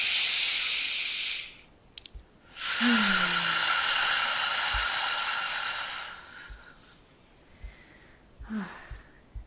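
A deep breath during tapping meditation: a long, breathy exhale hiss up close, then a second sustained airy exhale, with short sniffs and faint room noise in between.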